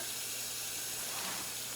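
Cold water runs steadily from a tap into a sink, a constant close hiss with no pauses or voices.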